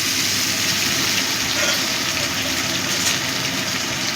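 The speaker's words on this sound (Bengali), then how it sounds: "মিক্সিং জারটা ধুয়েও দিয়ে দিচ্ছি।" Running tap water rinsing out a mixer grinder jar in a home kitchen, a steady rushing splash with a low hum underneath, close and continuous for several seconds.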